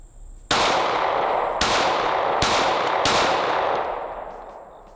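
Four sharp pistol shots from a Glock or Smith & Wesson handgun ring out at uneven intervals, each a loud close crack with a lingering outdoor-range echo, and the tail fades gradually after the last one.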